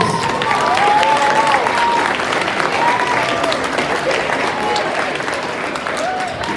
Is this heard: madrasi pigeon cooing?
no